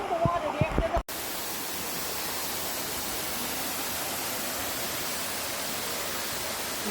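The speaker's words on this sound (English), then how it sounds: "So this is the pool area, and that's the waterfall." The Mayan King Waterfalls in the rainforest give a steady, broad rushing roar that runs unbroken once a brief stretch of talk at the start cuts away.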